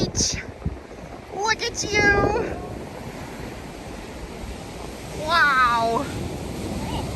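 Waves wash onto Apollo Beach at Canaveral National Seashore, making a soft, continuous surf wash with wind rumbling across the microphone. A child and an adult call out excitedly over it in a couple of brief bursts.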